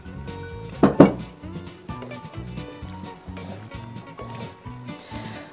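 Penne pasta dressed with olive oil is stirred in a pot, giving two sharp metallic clinks near the start followed by soft, steady scraping and clattering of utensil against the pot, with music-like tonal background throughout.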